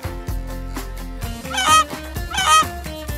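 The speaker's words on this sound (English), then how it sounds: "Goose. It's a goose." A goose honking in two loud, nasal bursts over a bouncy children's music backing.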